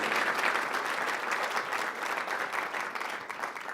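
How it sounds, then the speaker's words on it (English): An audience applauds an award finalist at a sports awards ceremony, a steady, dense round of clapping throughout that holds at an even level and tapers slightly at the end. "One more round of applause."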